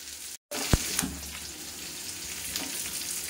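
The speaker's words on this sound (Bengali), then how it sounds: "সবার প্রথমে পনিরটা একটু ভেজে নেব" Paneer frying in a wok, a soft steady sizzle with a brief break and a sharp clink of a utensil near the start.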